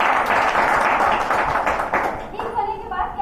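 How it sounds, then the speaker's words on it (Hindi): An audience at a DXN women's meeting breaks into a burst of clapping applause, mixed with voices talking over it, and the clapping fades toward the end. "जबरदस्त तालियां होना चाहिए।"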